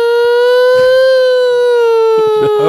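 A person's voice imitating a national alarm siren, a loud sustained wail that holds steady and slowly sinks in pitch, close and alone with only faint background noise.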